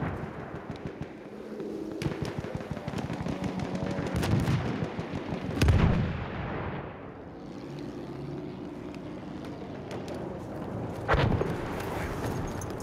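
Battlefield 1 battle noise: sharp gunshots and booming blasts over a steady drone like a propeller plane, with loud cracks near six and eleven seconds and no talking.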